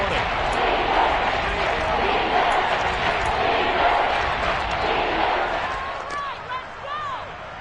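A stadium crowd in the football video game Madden 23 roars steadily and loudly throughout, a dense wash of cheering building toward a big third down, with a few whistles near the end.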